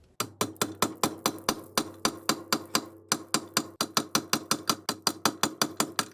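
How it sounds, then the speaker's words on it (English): A hammer drives a chisel into an Alpha/Bravo outdrive lower unit bearing carrier in rapid, steady metallic strikes, close and loud, with a brief pause near the middle. "I'm going to chisel that away and collapse that portion of the carrier"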